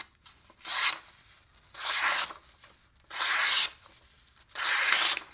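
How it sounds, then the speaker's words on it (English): Lookout and RanchDog fixed blade knives with factory edges slicing through material in four evenly spaced strokes, each a close, crisp rasping swipe about half a second long with quiet gaps between. "So this is just going to be testing the sliciness on the knives now."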